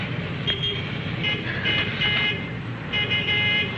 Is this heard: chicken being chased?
no